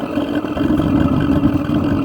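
A steady, rushing roar of a gas burner on a 2011 Jayco Jay Flight 1007 camper, with a breathy air draw from a badly adjusted air intake, loud and close, holding constant for a couple of seconds.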